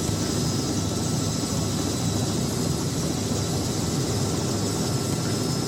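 A steady, loud helicopter rotor and engine drone from a flight simulator game (Prepar3D v5), continuous and unchanging, with no voices.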